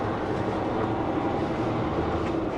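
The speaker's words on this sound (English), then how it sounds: "trying to get across all these railroad tracks and everything else." A truck crossing a series of railroad tracks, heard as a steady, continuous low rumble and rattle from inside the cab that holds evenly throughout, with no talking.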